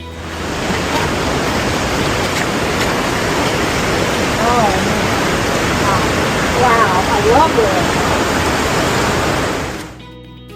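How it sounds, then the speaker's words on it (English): The Kozjak waterfall in a hidden gorge in Slovenia's Julian Alps plunges about 45 feet into a pool, a loud, continuous roar of falling water up close, with a brief exclamation from a visitor partway through before it fades at the end. "The Kozjak waterfall cascades about 45 feet into a pool in a hidden gorge."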